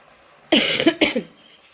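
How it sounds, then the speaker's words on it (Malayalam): A person with a fever and cough coughs twice in quick succession, close and fairly loud, after a moment of quiet. "ചുമയുണ്ട് കേട്ടോ പനിയും ചുമയൊക്കെ ഒന്ന് ഉള്ളൂ"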